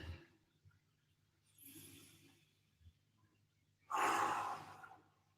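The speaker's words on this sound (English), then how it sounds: "Big deep breath." Deep breathing during a live home recovery workout: a soft breath in, then a louder, drawn-out exhale, close and alone without talk.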